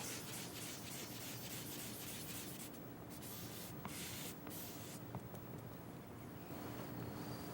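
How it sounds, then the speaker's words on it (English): A rusty Japanese kitchen knife rubbed with a moistened cork dipped in cleanser, a steady soft gritty scrubbing in circular strokes, continuous and close, with no talk. "Moisten the end of the cork and dip it into the cleanser. Use a circular motion. This removes the rust a little at a time."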